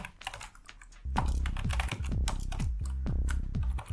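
Rapid typing on a computer keyboard, entering a city name into a terminal weather application: a close, brisk run of clicking keystrokes with a few louder, thumping key hits, heard alone with no talk.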